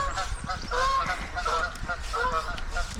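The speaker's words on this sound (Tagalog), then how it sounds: "Gansa!" Geese honk repeatedly along the Torrs Millennium Walkway, a fairly close, loud run of overlapping nasal calls that continues throughout.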